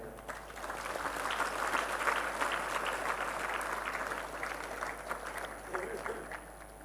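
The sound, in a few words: audience applause welcoming fathers and sisters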